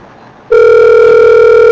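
A phone line rings during an outgoing call: a loud, steady electronic ring tone starts abruptly after a short quiet moment and holds unbroken, with no voices over it.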